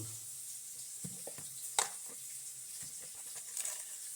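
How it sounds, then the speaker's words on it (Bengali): Chopped onions sizzle quietly in a pan with salt, a steady soft frying hiss broken by a few sharp stirring scrapes and clicks close by. "এটা লাল লাল করে ভাজবো এবার পেঁয়াজের মধ্যে দিয়ে দেবো লবণ"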